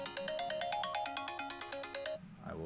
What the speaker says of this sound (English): I will mute that so you guys don't all hear my phone ringing